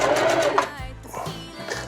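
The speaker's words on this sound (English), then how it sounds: "So I'm just gonna sew right down the middle to more or less keep it in place." Sewing machine stitching a straight seam down the middle of a DIY bridge hammock, a steady close mechanical whir that runs the whole moment with slight dips in speed.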